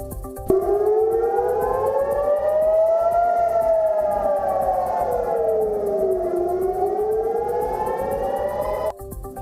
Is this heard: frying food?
no